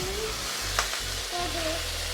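Asian-style pork mince sizzles steadily in a hot pan, a close continuous frying hiss with a brief louder crackle, sitting over a low background hum.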